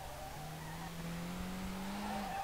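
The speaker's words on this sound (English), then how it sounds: "A little jump drift." A Nissan R32 drifts after a small jump in the SLRR racing game, with a steady engine drone and a long, rising tire squeal that holds for about two seconds, faint and without talk.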